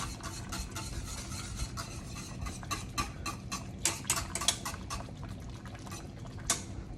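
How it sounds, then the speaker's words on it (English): A spoon stirs butterscotch pudding in a pot in a fast, steady run of soft scraping and clicking strokes over a low bubbling hiss; close and fairly quiet, with no talk. "So we're gonna keep stirring so you can see the entire process."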